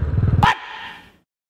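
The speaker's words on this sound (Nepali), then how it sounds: "चल कुकुर पो बिच बाटोमा के हो" A dog standing in the middle of a road gives a single close, sharp bark after a brief rumble of background noise, and the bark's echo trails off quickly into silence.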